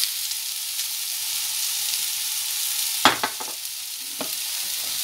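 Olive oil sizzles steadily in a frying pan while burger ingredients cook, a constant bright hiss with a few louder crackles and pops near the end.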